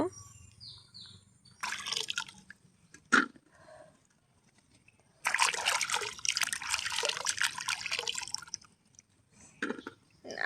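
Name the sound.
washing jackfruit seeds in water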